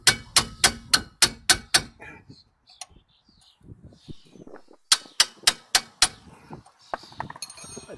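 Metal hammer blows on a Toyota MR2 strut top being freed during a rusty strut top replacement: two quick bursts of about six sharp, ringing strikes each, close and loud, separated by quieter clanks and handling noise.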